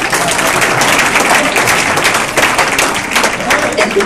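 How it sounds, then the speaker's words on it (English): A conference audience at a Future Business Leaders of America event claps and cheers steadily and loudly throughout, a dense wash of hands with voices mixed in. "You can clap for this moment"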